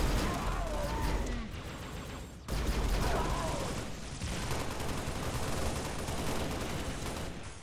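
Battlefield gunfire against Covenant Brutes in Halo, including a plasma rifle, comes as dense rolling volleys and sporadic shots at mid distance, layered with chaotic combat noise and a voice speaking over it.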